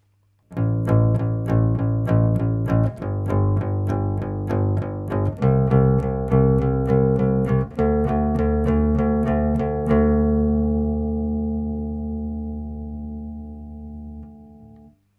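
A typical pop-rock bass line played with a plectrum on electric bass guitar, with a string of steady picked notes shifting pitch a few times before the last note rings out and fades, clear and alone.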